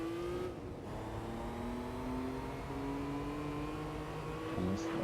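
Nissan GT-R style four-wheel-drive car in Gran Turismo 3, its engine droning steadily with rising pitch as it accelerates, moderately quiet and continuous, with a short shift or dip near the end.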